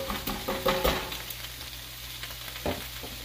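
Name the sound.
sautéing kale in garlic canola oil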